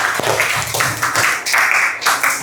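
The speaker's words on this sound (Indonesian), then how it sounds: "9C, tepuk tangan buat kita semua" Class 9C applauds in a school classroom, a burst of lively clapping from many students, close and fairly loud, with uneven overlapping claps continuing through the moment.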